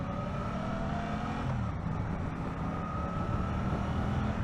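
A Suzuki GSX-8R motorcycle pulls away from a standstill in its gentler C riding mode, a steady, moderately loud engine drone with a smooth, gradual pitch rise and no sharp revving.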